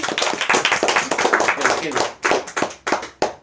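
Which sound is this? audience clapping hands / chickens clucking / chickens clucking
audience clapping hands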